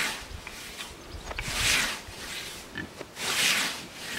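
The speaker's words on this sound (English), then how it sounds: "the pigs are getting quite excited because they know it's food time" Pigs on a smallholding grow excited just before feeding time, grunting and squealing in two louder bursts over a low rustle of movement, at moderate distance with no talk.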